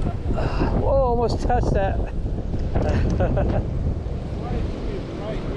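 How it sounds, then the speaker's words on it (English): Hard wind blows across the microphone beside a Kansas lake while fishing, a loud continuous rumbling roar that persists under a man's brief spoken exclamation. "Or the wind blowing so hard I can't get it where I want to be."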